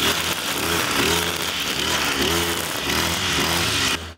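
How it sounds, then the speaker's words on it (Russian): Lawn mowers cutting weeds along a highway make a steady, loud motor drone with a buzzing, wavering pitch for about four seconds, then stop abruptly. "У автострад сейчас гул газонокосилок заглушает шум моторов машин"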